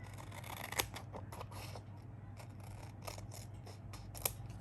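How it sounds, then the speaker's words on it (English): Scissors snip excess paper off a B6 Stalogy notebook, a faint, close series of short crisp cuts in an uneven rhythm with a few sharper clicks of the blades closing. "I'm just going to cut the excess off this side"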